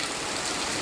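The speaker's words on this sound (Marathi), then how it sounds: "आज तर सकाळ सकाळच पावसाने सुरुवात केलेली आणि तो पण धो धो पाऊस पडतोय" Heavy rain pours down in a steady, dense, close hiss with no pauses, a brief continuous wash of falling water.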